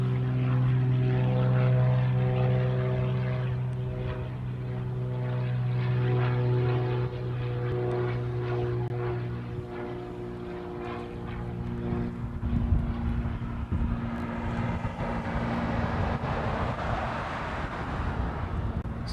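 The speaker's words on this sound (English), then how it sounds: "So the next one out is another Hawaiian. It's a 717. It's heading off to Maui." A Hawaiian Airlines Boeing 717 departs Honolulu at night. A steady engine roar carries from a distance, swelling into a broader rushing noise toward the end, with no talk over it.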